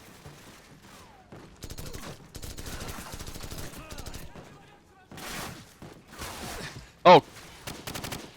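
Gunfire in the Call of Duty 4 video game: rapid bursts of automatic fire and scattered shots come in clusters, with pauses between them, and one sharp, loud burst near the end; a voice exclaims briefly.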